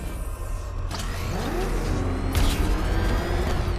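In the video game Batman Arkham Knight, the Batmobile rumbles and smashes through a gate, a low engine drone broken by two sharp crashing impacts, with no talking.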